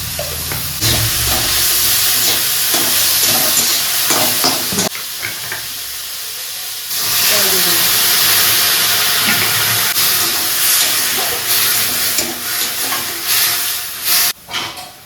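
Vegetable chop filling simmers in a pan on a gas stove, giving a loud, steady hiss and sizzle with brief stirring scrapes. The hiss dips for a couple of seconds midway and then returns, with no talking.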